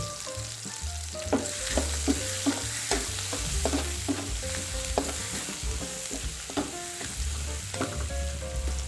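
Onion and garlic sautéing in a pan, a constant loud sizzle close by broken by regular stirring scrapes and knocks of a spatula, with no voices.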